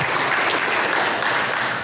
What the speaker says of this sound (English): Can we give a round of applause to AdSkate,